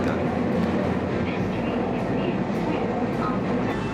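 Tokyo subway train riding along, a steady loud rumble and roar of wheels on rails filling the whole stretch from inside the carriage, with faint voices mixed into the din.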